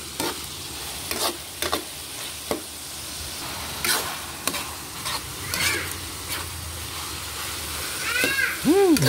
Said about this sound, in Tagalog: Haluin lang ulit natin.